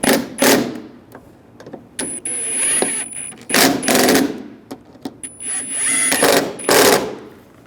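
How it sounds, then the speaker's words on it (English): A power driver tightens the screws on a front door lock actuator of a 2011-2018 Ram 1500 pickup, sounding as several short, loud whirring and ratcheting bursts separated by brief pauses, close up and with no talking. "Now we'll tighten these down."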